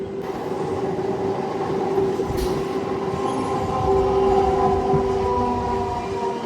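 The Kacheguda–Raichur MEMU passenger train runs along with a constant rumble of wheels on track, overlaid by steady humming, whining tones from the carriage.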